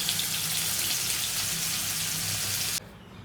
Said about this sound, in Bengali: তেলটা গরম হয়ে গেছে, মাছটা দিয়ে দিই, এইটাও দিয়ে দিই